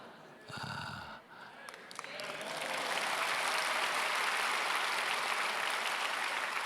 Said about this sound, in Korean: 이 박수도 진심 어린 박수가 아니라는 거.